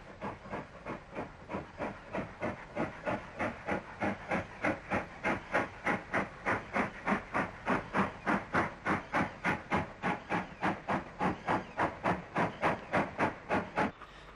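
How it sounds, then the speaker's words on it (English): Steam tank locomotive departing a station in 1960s Ireland, with a loud, steady chuffing exhaust beat that builds in strength and quickens slightly as it pulls away, hissing steam underneath. "Sister Loco number 3 arrives with an uptrain"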